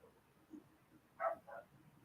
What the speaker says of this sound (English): Little guy's barking at the chickens again, I think.